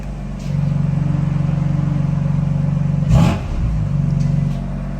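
A BMW car engine runs with a loud, steady, throbbing idle, then swells briefly in a short rev partway through before settling back to an even rumble.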